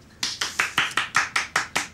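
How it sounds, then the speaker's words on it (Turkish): A family claps after a child's harmonica performance, sounding as a steady, evenly spaced series of about nine close, crisp hand claps with no voices over them. "O zaman bir alkışlayın."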